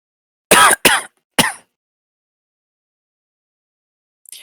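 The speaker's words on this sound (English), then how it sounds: "Those are my coughs." Three quick, harsh coughs close together near the start, then silence, with a faint noise at the very end.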